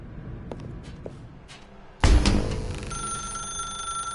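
A telephone rings in The Stanley Parable, its bell-like tone starting abruptly midway with a sharp onset after quieter ambient clatter, then holding as a sustained ringing tone to the end.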